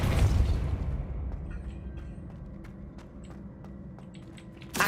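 A spell blast from Hogwarts Legacy opens with a loud booming burst that rumbles and fades. A few faint clicks and ticks follow, and a second burst comes in sharply at the very end.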